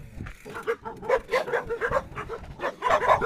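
Several dogs on a park trail yip and bark in quick, overlapping bursts, fairly close, with brief whimpers between the barks.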